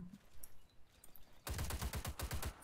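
Rapid automatic fire from a K&M Arms M17 assault rifle in the shooter game Warface: a fast, loud burst of shots begins midway and continues steadily to the end, after a quieter stretch of low ambient game sound.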